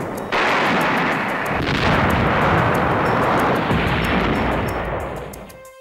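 Continuous heavy artillery cannon barrage, dense booming and rumbling shots blending into a loud roar that fades slightly at the end.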